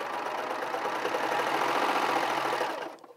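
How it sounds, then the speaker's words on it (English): A Baby Lock Celebrate serger running a 4-thread stitch across a thread tail, a fast, steady mechanical whir close up that holds for about three seconds and then stops abruptly. "and the serger serges"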